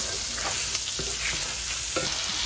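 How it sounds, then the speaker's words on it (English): Pineapple sautés in butter and brown sugar in a pan, a steady close sizzle broken by a few stirring scrapes. "and then I'm going to saute my pineapple."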